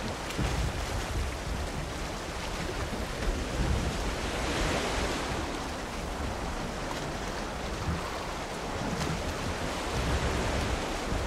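Ocean waves roll at sea at night in the video game Valheim, a steady, full-bodied wash of surf mixed with wind that runs unbroken and fairly loud throughout.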